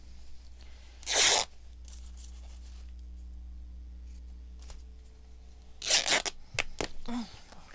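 Fabric being cut with scissors while making junk journal flips, two louder bursts of cutting or tearing separated by quiet pauses, close and alone.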